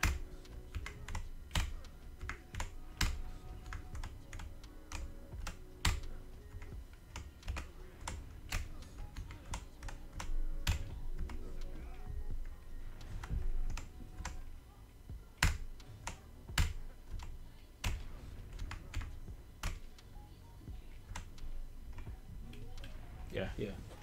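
Computer keyboard keys clatter in quick irregular bursts of clicks and taps while someone plays the puzzle game Catherine, with a voice talking underneath at times.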